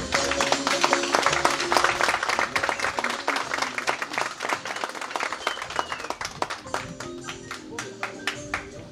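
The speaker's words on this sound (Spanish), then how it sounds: "el aplauso fuerte, Cheri, para el señor alcalde" Loud audience applause at a community recognition for a local mayor, with distinct individual claps from nearby hands over a continuous crowd clapping that tapers slightly midway and then picks back up.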